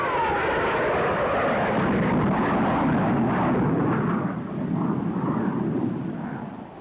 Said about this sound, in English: Now we are approaching with the afterburner in operation. Watch the increase in this climb.